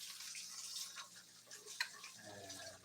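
Tap water runs into a kitchen sink while a tablespoon is rinsed during dinner cooking, a steady hissing splash with a brief clink partway through and a low hum entering near the end.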